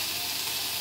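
Ginger sizzles in a pan, a steady close hiss of frying with no voices over it.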